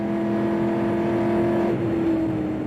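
A race car accelerates during an onboard lap at Le Mans in 1968, its engine droning loudly and steadily with a slight pitch change near the end.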